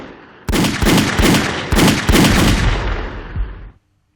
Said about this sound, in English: I have that gunshot sound effect in my fucking archive